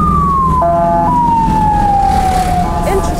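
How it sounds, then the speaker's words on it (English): A police siren wails along a road in Bali, a loud, near, slowly falling tone with brief stepped shifts, over steady traffic rumble. "So that was the siren"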